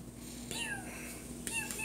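A male house cat meows twice indoors, two short, close, clear calls about a second apart over quiet room tone.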